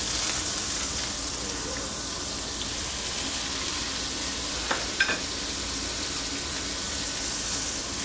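Alaska king salmon sears skin side down in a hot pan, giving a steady, even sizzle close by with a couple of faint clinks partway through and no talking.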